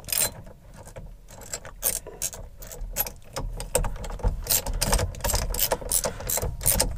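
A large centre nut being tightened back onto a Mk5/6 Golf-type steering wheel with a ratchet, giving close, rapid clicking bursts and metallic mechanism noise in irregular runs.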